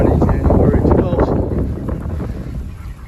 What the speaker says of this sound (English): bit windy out here today.